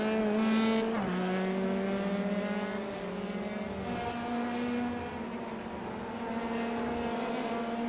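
Race cars at a Volkswagen Motorsport India ISRL event drone steadily on a racetrack, a sustained high engine whine with shifting pitch as cars pass at moderate distance, no talk.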